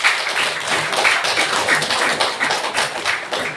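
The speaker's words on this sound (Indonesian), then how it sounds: "Ya, beri tepuk tangan buat Pak Supri." Brisk, close applause from an audience at a school presentation on positive discipline at SMP Negeri 1 Punggur, dense clapping carrying steadily for several seconds with no voices over it.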